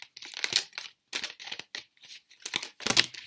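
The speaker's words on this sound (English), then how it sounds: "These are like really hard to shuffle." Stiff heart-shaped Lovers Oracle cards shuffled in close bursts, giving crisp papery riffles and slides that repeat in uneven clusters with short pauses between them.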